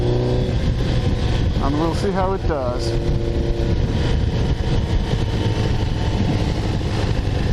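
Kawasaki GPZ900R motorcycle engine pulling hard on the road, a steady loud drone with rising and falling pitch sweeps as the rider shifts, under continuous wind rush and someone talking over it.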